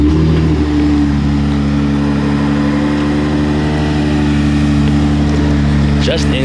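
Custom-built pickup truck engine running with a deep steady rumble and strong low harmonics, revving slightly, loud and close, with someone talking over it.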